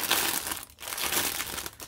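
Plastic bags of diamond-painting diamonds are crinkled and opened close by, a steady crackling rustle that runs throughout with a brief pause partway, and no talking.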